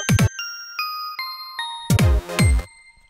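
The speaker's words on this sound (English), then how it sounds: "that's this bell sound" A synth bell patch plays in Logic, with a run of bright, ringing tones struck one after another, each chime sustaining with a clean decay, then louder, denser bell hits near the end, all without any voice.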